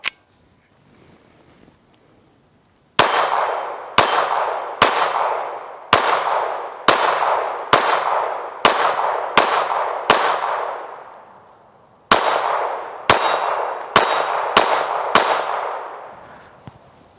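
Repeated loud gunshots from a Kel Tec P17 pistol, about a dozen sharp cracks each followed by a ringing metallic clang from a steel target, spaced roughly a second apart with a short pause midway.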